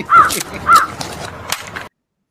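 Crows give two loud, harsh caws close by, followed by fainter calls and rustling before the sound cuts off.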